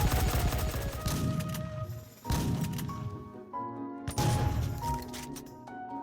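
Futuristic machine guns and plasma cannons firing in a Minecraft RPG mod, loud dense bursts of rapid shots with ringing whines and zaps, in several waves over a few seconds.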